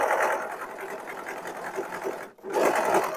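A super-elastic two-needle overlock sewing machine stitching jersey fabric runs in a steady, fast whir, pausing briefly near the end before starting up again.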